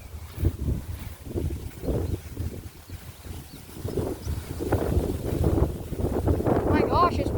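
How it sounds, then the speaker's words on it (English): Strong wind on a farm buffets the microphone in loud, uneven gusts, roaring and rumbling low with brief lulls, and a voice speaks faintly under it toward the end. "Oh my gosh, it's windy."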